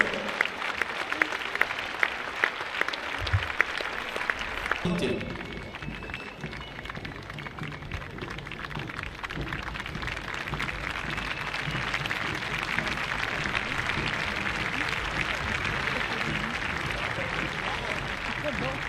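After a few seconds of voices, a crowd in the Arles arena at the gardians' festival breaks into loud, sustained applause that continues steadily to the end.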